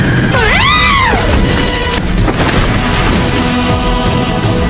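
In a Naruto Shippuden anime fight, a scream-like wail is followed by a heavy crashing explosion with a dense rumbling blast that continues loudly throughout.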